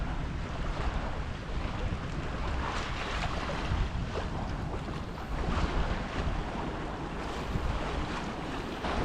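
Wind gusts steadily across open sea while sailing a boat around Cape Finisterre, a continuous broadband rush with wind buffeting the microphone and waves surging beneath, loud and unbroken throughout.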